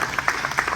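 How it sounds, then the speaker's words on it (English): An audience at a Brahman cattle show in Florida claps for the cattle exhibitors, with loud, crisp, closely spaced handclaps in a lively, uneven rhythm and no talk over them. "let's give all of these people a round of applause for the cattle that they have out here"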